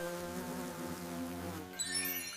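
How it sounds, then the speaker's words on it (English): A bee buzzes in a steady, continuous drone that stays close and fairly quiet throughout, with a slight shift in tone near the end and no voices. "It's a bee."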